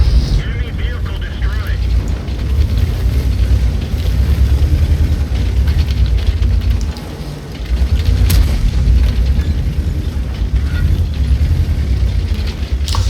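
Tank cannon fire and shell impact in the World of Tanks video game, deep rumbling booms over a constant heavy engine drone, with a brief dip midway and someone talking over it.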